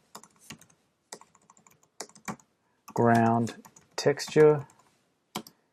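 Quick bursts of clicking keystrokes on a computer keyboard, with pauses between, while a person speaks briefly in the middle.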